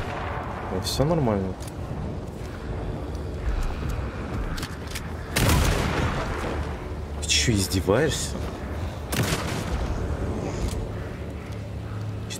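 Gunfire in the video game Alan Wake 2, with several sharp booming shots spread through the clip, heard over a continuous game soundscape while someone speaks Russian.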